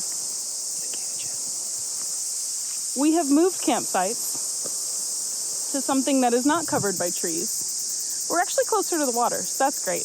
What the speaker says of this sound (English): it's happy cicada time right now